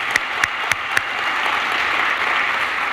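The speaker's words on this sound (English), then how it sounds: "I would ask you all to give these folks a round of applause with me for the work that they've done" Audience applause for an engineering team at a business software presentation, a steady wash of clapping from a crowd with a few sharper claps standing out near the start, sustained and even throughout.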